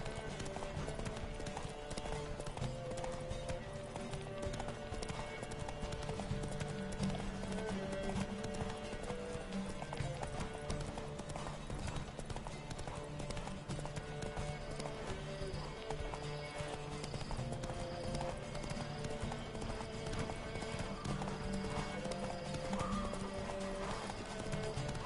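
Horse hooves clip-clop at a steady gallop during a race in The Witcher 3, dense and continuous for the whole stretch, with occasional neighs beneath game music and effects.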